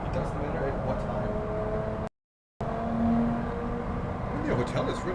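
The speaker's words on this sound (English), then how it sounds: "There's always traffic." Steady road traffic near a hotel by Miami Airport, a broad continuous rumble of passing vehicles with a brief dropout midway, heard from above at moderate distance.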